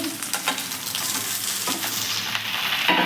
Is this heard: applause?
no